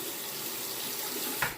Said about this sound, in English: let me wet my razor